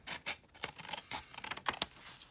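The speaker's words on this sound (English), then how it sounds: "take your scissors and just trim off that excess" Scissors snipping off excess paper from an origami square, a series of short, crisp cuts that come close together and stand alone against a quiet room.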